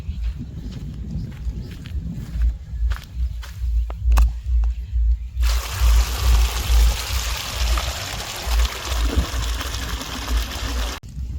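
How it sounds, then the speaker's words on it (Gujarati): Irrigation water gushes steadily into a cabbage field on a village farm, a loud continuous rushing flow that starts abruptly partway through, preceded by scattered footsteps and rustling outdoors. "પાણી ચાલુ કરી દીધું ને કુબીના ઘેરામાં જાય છે"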